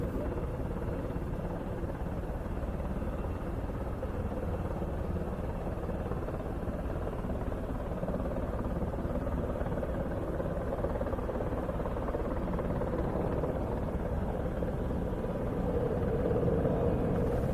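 An F-16BM fighter jet rolls for takeoff at the Royal International Air Tattoo 2025, departing for Kleine Brogel. It makes a steady, broad engine rumble from some distance that swells slightly toward the end.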